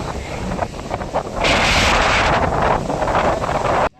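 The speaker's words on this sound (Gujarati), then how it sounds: "પવન છે ને ભાઈ ઘણો બધો ચાલુ થઈ ગયો" Strong gusting wind buffets the microphone of a DJI Osmo Mobile 7 phone gimbal out on farmland, a loud continuous roar that swells louder partway through and then cuts off abruptly.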